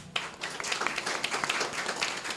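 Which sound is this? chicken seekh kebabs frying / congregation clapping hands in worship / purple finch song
congregation clapping hands in worship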